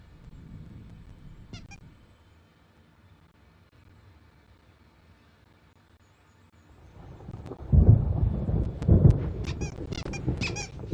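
Thunder from a storm in the video game Alan Wake Remastered: after a long quiet stretch, heavy low rumbles roll in loudly near the end, with scattered sharp squeaks on top.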